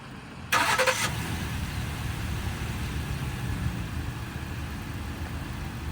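A vehicle engine at an airport auction runs steadily at a low idle throughout, with a brief louder burst near the start as it is moved forward and backward.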